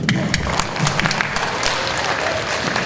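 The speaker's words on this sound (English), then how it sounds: "Let's give these students and teachers a round of applause." A school morning-assembly crowd at an elementary school in Ponca City applauds students and teachers: dense, steady clapping close by fills the whole stretch, with a few sharper individual claps standing out.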